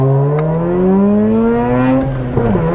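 Mazda RX8 rotary engine with a flame tune revving hard on a race track, a loud, close, rising whine held steadily before a quick shift and dip near the end.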